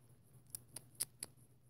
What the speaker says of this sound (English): You're not just hearing random pencil scratching noises on a separate sheet of paper at the same time.